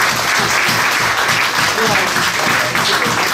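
An interview audience breaks into sustained, dense applause that stays loud and steady throughout, with a few voices mixed into the clapping.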